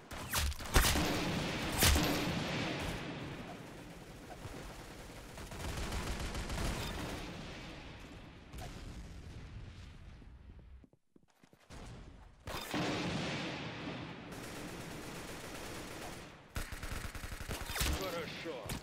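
Rapid gunfire from the Roblox game Arsenal, dense bursts and single shots over nearly twenty seconds, loud and continuous apart from a brief lull near the middle.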